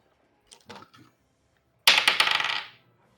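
Dice rolled during a tabletop role-playing game session: a few light rattles, then a loud clattering tumble of several dice on a hard surface, close and alone with no talk.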